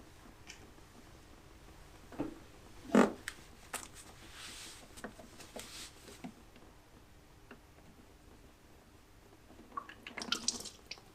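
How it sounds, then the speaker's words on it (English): Transmission oil drains from a ZF 8HP eight-speed gearbox on a Range Rover L322, falling in sparse, irregular drips with faint splats, quiet and close with small pauses between. "Right, so it's mostly oil drained, so we'll pop the drain plug back in a second to stop it leaking everywhere."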